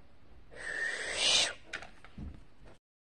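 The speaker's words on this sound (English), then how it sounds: "now time to power up my owl glider" A PJ Masks toy owl glider powers up, giving out an electronic owl hoot with a bright synthetic tone, a short warbling burst followed by a couple of fainter clicks, close and alone.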